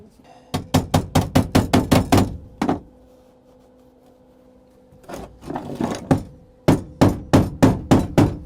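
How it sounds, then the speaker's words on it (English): Sharp hammer blows strike a welded steel car floor pan in quick, evenly spaced bursts of about eight hits, then a pause, then another run of rapid metallic strikes, each ringing briefly. "I'm gonna have to go get a hammer and start doing some hammer work on it"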